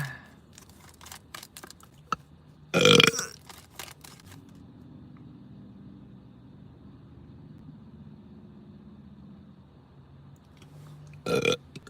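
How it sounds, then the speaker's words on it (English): A person lets out a single loud burp early on, followed by quiet room noise and a low engine-like rumble, with another short loud burst near the end. "I'm sorry, spiritual burp."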